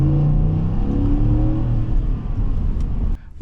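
Ford F150 XLT with a 5-liter V8 revving up close, a loud, rising engine roar with strong harmonics that climbs and holds before cutting off abruptly near the end.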